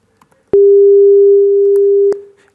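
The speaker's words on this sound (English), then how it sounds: "what that means is that the sine wave is oscillating at 300 times a second" A steady pure sine-wave test tone, one continuous loud unbroken note lasting about a second and a half, with a short click at its start and end and quiet room sound around it.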